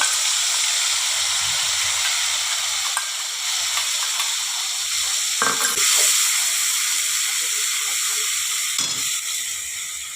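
Onion paste frying in a pan for a mustard rohu fish dish, giving a steady loud sizzle and hiss throughout, with a few brief stirring knocks around the middle and near the end.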